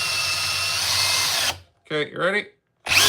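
A DeWalt drill with a 2.5 amp hour battery whines steadily in drill mode at speed 2 for about a second and a half, then stops; someone speaks briefly before the motor starts again.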